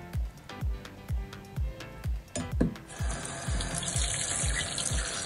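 Running water splashes steadily while objects are scrubbed and knocked against a surface in a regular rhythm, close by, with the flow growing louder toward the end.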